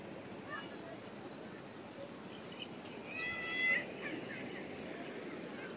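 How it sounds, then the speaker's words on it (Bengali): Ocean surf rolls in at Inani beach, Cox's Bazar, at midday: a steady, broad wash of wave noise with a slight swell near the middle and faint background sounds. "কি ঢেউ! এটাই আমাদের কক্সবাজার"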